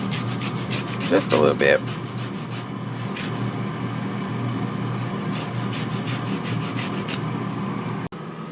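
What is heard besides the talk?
zesting a lemon over wings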